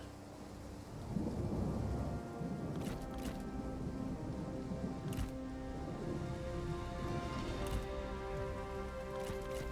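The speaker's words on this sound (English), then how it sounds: "I don't think we care about rain." Rain and thunder during a battle in a strategy video game: a steady wash of heavy rain under low rolling thunder rumbles that swell and fade.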